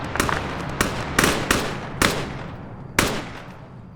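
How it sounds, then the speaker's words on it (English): Gunfire from friendly soldiers on a hill in Arma 3, five or six sharp, irregularly spaced shots cracking out at mid distance, each ringing briefly before the next, loud against a steady background rumble. "That's friendlies firing on us from the hill."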